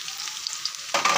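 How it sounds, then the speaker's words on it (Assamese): Onions fry in hot oil for a Bihari-style goat mutton curry, hissing steadily up close before a louder burst of sizzling near the end. "এয়া তেলতে একদম চব দি পেলাই পিঁয়াজখিনি ভাজি আছোঁ"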